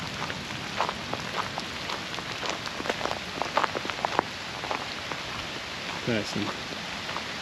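Heavy rain pours steadily during a storm while exploring ruins, a dense hiss of drops on surfaces throughout, with someone speaking briefly over it.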